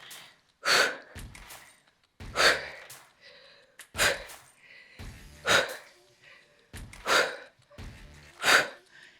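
Six forceful, breathy exhales during an ab workout, evenly spaced in a steady rhythm, close and fairly loud with short gaps between.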